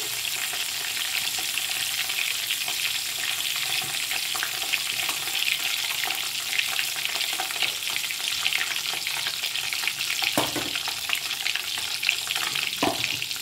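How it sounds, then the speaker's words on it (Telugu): Cumin seeds fry in hot oil with a steady, close sizzle that holds throughout, broken by a couple of brief clinks from a stirring spoon, and no talking. "ఆయిల్ పెట్టి జీరా వేగాలండి"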